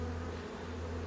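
Honeybees buzz steadily at a beehive being settled with its queen, brood and comb, a dense, continuous hum close by with no pauses and no talk.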